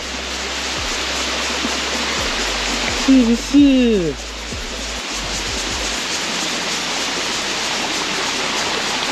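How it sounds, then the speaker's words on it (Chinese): Zhonggou Waterfall in the Coastal Mountain Range near Fuli, Hualien, falling among rice paddies, gives a constant broadband roar of rushing water; a voice briefly speaks over it midway. "就会看到这个非常厉害的海岸山脉的壮阔的中沟瀑布"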